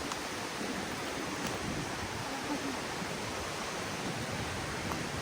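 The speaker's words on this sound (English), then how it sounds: "the beautiful rapids of the waterfall heading down" Waterfall rapids near Killarney, Ireland, give a steady broad rush of falling water, even and moderately loud throughout.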